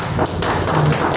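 Applause from a seminar audience in Lucknow, a dense, steady patter of many hands clapping close by for the full moment, with no voices over it.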